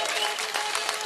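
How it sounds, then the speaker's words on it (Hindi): Dense crowd applause at an outdoor Gujarat election rally, loud and continuous for about a second. "अपनी तालियों से बताइए"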